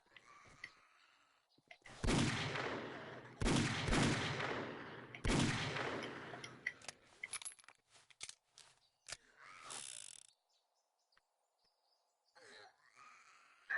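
Magnum gunshots in the video game 7 Days to Die: a few loud, sharp blasts spaced a second or two apart, followed by quieter clatter and rustling, with no talking.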